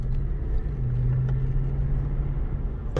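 A 2011 Lexus LX570 SUV's engine drones steadily from inside the cabin while driving, a continuous low rumble with a sustained hum and faint road noise, no talking.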